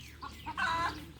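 Birds being chased off outdoors give a brief burst of clucking, fowl-like calls, close and moderately loud, with a few short squawks over a quiet background.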